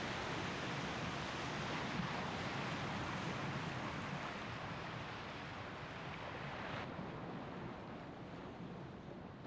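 Stormy sea surf pounding a shore in worsening weather, a dense, continuous roar of breaking waves that stays loud and unbroken throughout, with no voices.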